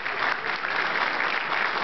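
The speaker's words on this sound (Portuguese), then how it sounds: "Uma salva de palmas." An audience at a free software conference talk breaks into brief applause, a steady, muffled patter of many hands lasting under two seconds at moderate loudness.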